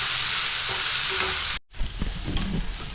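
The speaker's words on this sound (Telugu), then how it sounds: "ఇక దుంపలు కూడా వేసుకుందాం, ఉల్లిపాయతో పాటు వేగాలి" Potatoes and onions fry in a pan with a loud, dense sizzle, cut off by a brief silence and then resuming as a lower, bubbling fry with stirring noises.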